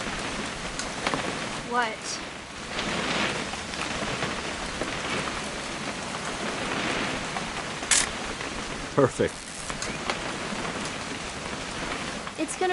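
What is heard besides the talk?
rain falling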